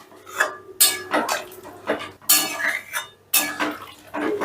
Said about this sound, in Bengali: সবটা বেশ ভালো করে মিশিয়ে দিয়ে আমি মিডিয়াম আঁচে 10 মিনিটের জন্য ঢাকা দিয়ে দিলাম।